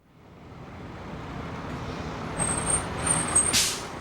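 City bus in Richmond pulling in, a loud broadband rumble that builds steadily, then near the end a sharp high hiss as the air brakes release.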